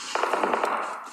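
A quick automatic burst of about six shots in PUBG Mobile, loud and close, with a short ringing tail after the last one.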